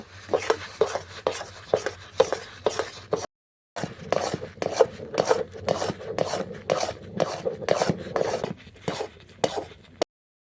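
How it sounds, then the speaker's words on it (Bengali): Spices including Kashmiri chilli powder and turmeric are mixed into soya bean kurkure, a steady run of rhythmic scraping and rubbing strokes against a pan, close and clear with a short pause midway. "এরপর ভালো করে মিশিয়ে নিচ্ছি"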